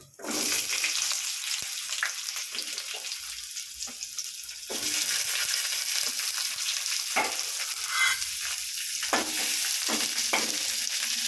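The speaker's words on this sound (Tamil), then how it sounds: "பட்டை லவங்கம் ஒரு ரெண்டு லவங்கம் ஏலக்காய் ஏலக்காய் ஒரே ஒரு ஏலக்காய் இந்த போடுறோம்" Cinnamon, cloves and cardamom sizzle in hot oil in a frying pan for a cabbage and radish kuzhambu, a loud steady crackling fry with occasional stirring scrapes and a sharp surge partway through.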